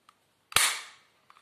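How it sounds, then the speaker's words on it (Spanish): A toy ball pistol fires once, a single sharp, close crack with a short fading hiss, preceded and followed by faint small mechanical clicks. "vamos a disparar"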